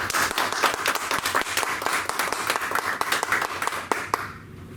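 Audience clapping to welcome two presenters at a veterans benefits session of a senior expo, a dense, steady round of applause with sharp individual claps that fades out near the end.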